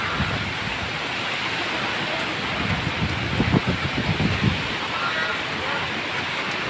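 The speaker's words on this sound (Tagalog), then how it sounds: "Sinasabayan pa ng malakas na ulan" Heavy rain pours steadily with a broad, roaring hiss, gusts of wind swelling through it, loud and close throughout.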